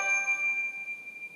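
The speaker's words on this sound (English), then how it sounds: "that was my phone again" A mobile phone gives a short, clear electronic chime notification, a single ringing tone that fades over about a second, fairly faint and alone.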